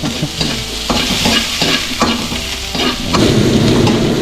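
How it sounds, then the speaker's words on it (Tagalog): Garlic, onion and ginger sautéing in hot oil in a pan, a loud steady sizzle broken by repeated scraping stirs of a utensil against the pan, growing denser toward the end. "Igisa na po natin yung ating bawang sibuyas at luya."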